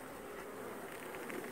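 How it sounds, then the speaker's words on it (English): Honeybees crowd a brood frame on the comb during a hive inspection, giving a faint, continuous buzzing hum with no voices. "lot of bees on this side"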